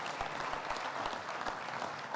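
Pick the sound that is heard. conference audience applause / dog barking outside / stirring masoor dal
conference audience applause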